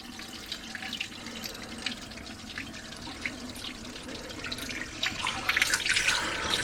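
A garden hose flushes water through the coolant system of a Rover V8 off the road for 12 years, a steady close rushing and splashing that swells louder toward the end.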